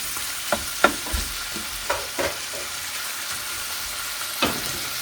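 Chicken sizzling in a pan and stirred in bursts, with a few clacks and scrapes of the spoon over a constant frying hiss, no voices.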